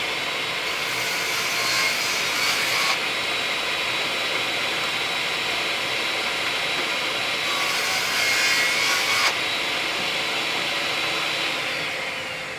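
Diablo 30-degree high ATB double-grind saw blade cutting wood, a continuous whining buzz with two brighter, harsher cutting passes, the second near the end, alone without speech.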